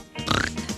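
A voice imitating a pig, a short nasal oinking grunt repeated a couple of times in quick succession, close and fairly soft.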